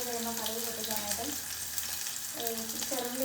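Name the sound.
mustard seeds, fenugreek, garlic, green chili frying in oil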